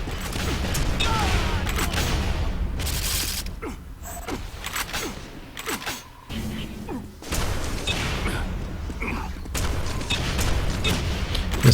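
Rockets fired repeatedly in Quake 4 multiplayer on a QuakeWorld-style map, a run of loud whooshing launches and booms over a dense, steady game soundscape.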